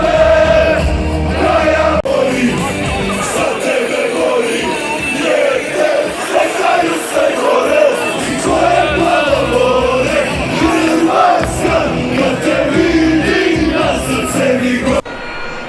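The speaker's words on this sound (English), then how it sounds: "The energy from the crowd was anything like I've ever seen." A loud, dense stadium crowd at a World Cup match roars and yells continuously, with surging shouts and whoops rising and falling for the whole stretch.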